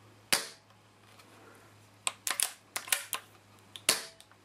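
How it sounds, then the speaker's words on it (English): A Brocock Compatto air rifle fires with one sharp, loud crack, followed by a quiet pause and then a scattered series of crisp mechanical clicks and snaps from handling the gun, heard up close without talk. "I'll just fire this in a safe direction."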